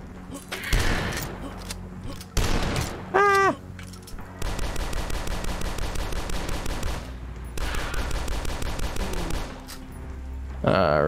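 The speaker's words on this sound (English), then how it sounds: "The Riveter is a rocket launcher, fires really fast, and does a lot of damage." The Riveter rocket launcher in the video game Dusk fires in rapid, rhythmic bursts of loud, punchy shots, with long runs of repeated blasts separated by short pauses, a rising whistling projectile tone, and scattered game voices.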